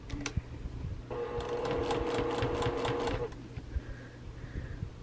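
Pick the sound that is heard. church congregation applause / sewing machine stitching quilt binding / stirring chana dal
sewing machine stitching quilt binding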